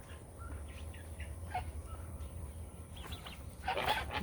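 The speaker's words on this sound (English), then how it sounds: "The goose thinks I'm chasing it." A goose on a farm shared with turkeys, ducks and chickens gives scattered faint calls, then a louder burst of honking near the end, set against steady low rumble and ambient noise.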